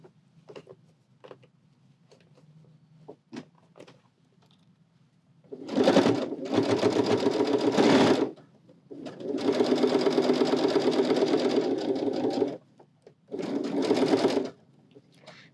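A sewing machine with a zipper foot stitches a punch needle pillow in three steady buzzing runs at moderate speed, close and clear, after a stretch of soft handling noises.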